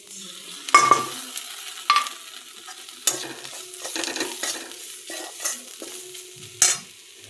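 Ginger, garlic and chili paste fried in oil with turmeric, coriander and cumin powder, giving a steady close sizzle with repeated spoon scrapes and stirring clatters in a quiet kitchen.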